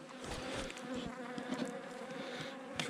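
Honeybees buzzing densely around an open beehive during a brood-frame inspection, a close, continuous hum with overlapping wingbeats.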